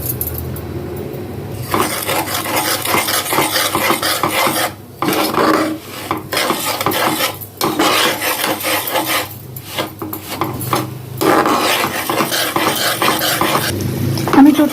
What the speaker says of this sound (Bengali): এবার এই যে ঘিটা দেখছেন, এইটাতে সুজিটা ফেলে এটাকে ভালো করে ভুনে নিতে হবে।